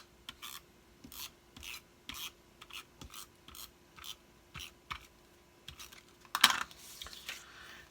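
Adhesive tape is pressed onto the back of a paper craft piece, heard as a series of short, close rubbing and smoothing strokes, with one louder tearing pull near the end and no talking.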